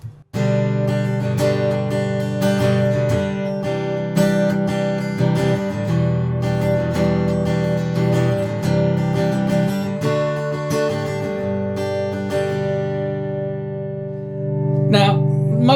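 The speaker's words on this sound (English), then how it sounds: "Now, I'm going to take it to full blend, which is the amp simulated sound." Yamaha SLG200N silent guitar played through its full-blend amp-simulated output, with strummed chords and picked notes ringing in a steady, loud passage, a short pause near the end before more strumming.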